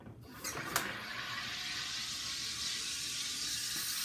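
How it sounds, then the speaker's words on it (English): A SodaStream machine carbonates water, releasing a loud, close, continuous hiss of pressurised gas after a short opening click, with no voices. "There's a button here that you press down for the carbonation. And what you do is you hold it down and wait till you hear about 3 puffs."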